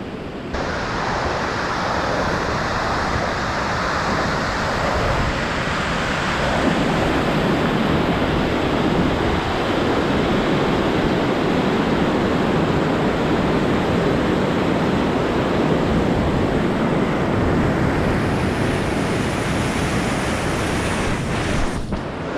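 A river in the Nubra Valley of the Himalayas rushes loudly and steadily, with a dense, unbroken roar of flowing water heard up close throughout and no voices.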